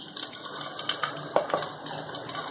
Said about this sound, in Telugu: ఇందులో కూడా మనం కొంచెం వాటర్ వేసి ఇందులో వేసుకుందామండి.